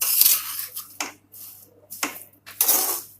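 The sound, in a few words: stirring mawa (khoya) and dry fruits together in a pan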